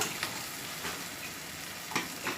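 Potatoes frying in a pan for chole curry give a steady, broadband sizzle with a few soft stirring scrapes. No one speaks over it.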